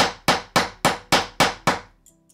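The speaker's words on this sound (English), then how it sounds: "we're hitting the aluminum wire onto the tile or on the floor" Seven evenly spaced, crisp taps of a hammer gently striking aluminum wire against tile ring out close by, each sharp hit followed by a brief decay and a faint clink at the end.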